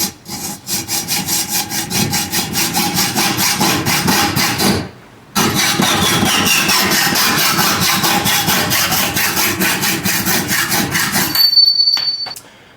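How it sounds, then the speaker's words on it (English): A hacksaw cuts through a bicycle fork steerer tube clamped in a vise, with steady, loud rhythmic back-and-forth strokes that pause briefly and then resume before stopping. "Good old hacksaw."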